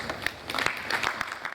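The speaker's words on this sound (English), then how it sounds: "A round of applause for her." Audience applause at a business roundtable on construction, a short burst of scattered hand clapping heard from within a hall, moderately faint.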